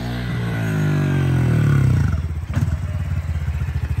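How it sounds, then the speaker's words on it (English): A small 110cc motorcycle engine rises in pitch as the bike approaches, loud and close, then settles into a lumpy, pulsing idle after a brief clunk. "here comes the new bike."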